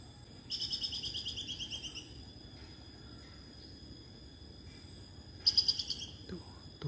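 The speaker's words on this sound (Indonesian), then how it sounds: "Tupainya bunyi seperti buyung." A squirrel makes high, rapid chattering calls in two bursts, one longer and one short, ringing out clearly over a quiet outdoor background during a hunt.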